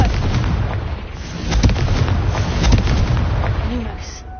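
The Confringo blasting spell in a Harry Potter game sets off rumbling explosions, with two heavier booming blasts in the middle over continuous low noise. Faint voices sound underneath.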